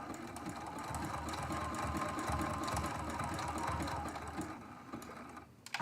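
A sewing machine runs a short backstitch to lock a seam on a quilt-as-you-go quilt block, giving a steady, close mechanical whir with rapid needle clatter that holds for about five seconds before cutting off.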